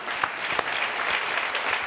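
Audience at a Comedy Central España roast battle breaks into steady, continuous applause, a dense wash of clapping with a few sharper claps standing out, with no voices over it.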